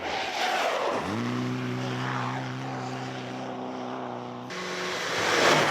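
The Solitaire Special rally car, fitted with different rear tyres, drives on a frozen lake in Norway, its engine note climbing quickly and then holding a steady, strong droning pitch before it changes near the end.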